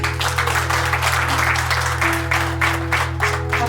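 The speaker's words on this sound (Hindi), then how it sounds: "आप अपने सबके लिए भी बहुत जोरदार तालियां बजाएं" Audience applause at a Brahma Kumaris gathering in Mungra Badshahpur, Uttar Pradesh: steady, dense clapping from a large crowd, sustained and fairly loud throughout over a constant low hum, with no one speaking.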